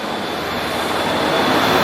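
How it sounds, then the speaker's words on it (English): A train rolls along a nearby elevated track in Harlem, New York City, making a steady, loud rumbling roar that swells slightly across the whole stretch, with no voices over it. "right, more trains"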